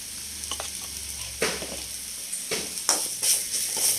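Spices for a green peas curry, including homemade chili powder, sizzle in a pan while being stirred, with a steady frying hiss broken by louder bursts of scraping at intervals.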